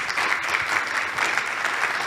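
Steady audience applause at a bank-sponsored business breakfast meeting, a continuous bed of many hands clapping at moderate volume with no speech over it.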